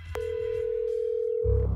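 A telephone gives a single steady electronic tone that holds for over a second before cutting off into a low rumble, heard alone and fairly close.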